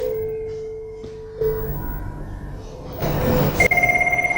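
A telephone rings in a French-speaking setting: a steady electronic tone fades out, and then a close, loud burst of rapid ringing pulses begins near the end.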